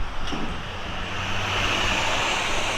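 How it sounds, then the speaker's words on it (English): A loud truck passing on a city street, producing a steady broadband roar of engine and road noise that fills the scene without letting up. "Oh God, that's a loud truck."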